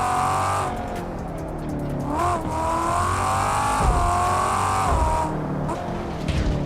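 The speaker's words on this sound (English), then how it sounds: "It's really hard to drive this car because you just want to stay on the throttle." In a racing video game, an aggressive all-wheel-drive race car engine revs and shifts continuously while the tires squeal through corners, loud and close throughout.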